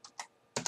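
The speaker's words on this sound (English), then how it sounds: "I'm going to type in ICMP. Hit the enter key." Four quick clicks on a computer keyboard, close and crisp, the last two louder keystrokes ending with a firm press of the enter key, no talk.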